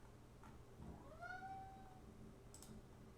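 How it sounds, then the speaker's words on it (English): A house cat meows during a livestream, giving one clear rising and falling call near the middle of a quiet room, followed by a faint short sound. "My cat really hates it when I stream."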